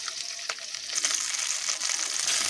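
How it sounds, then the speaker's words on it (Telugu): Green chillies, ginger, garlic cloves, cashew pieces and coconut bits frying in oil for an egg masala curry, a steady close sizzle that swells slightly, with a few soft stirring knocks. "ఇప్పుడు మనం కొంచెం ఆయిల్ వేసుకొని పచ్చిమిరపకాయల్ని, అలాగే మనం తీసుకున్న అల్లం వెల్లుల్లి రెబ్బల్ని, జీడి పలుకులు, అలాగే కొబ్బరి ముక్కలు,"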